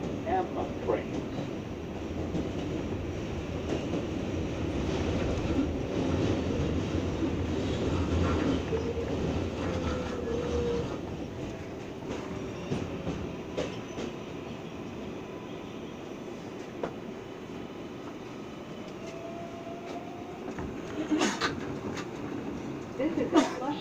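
New York R188 7 Express subway train running toward Flushing: a continuous rumbling roar of the moving car with rail clatter and occasional squeals and clanks, steady throughout at moderate loudness.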